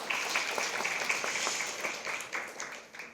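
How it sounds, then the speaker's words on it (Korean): An audience at an investment seminar on tech and semiconductor stocks claps in a dense burst of applause that gradually fades, moderately loud and continuous throughout. "다시 한번 큰 박수"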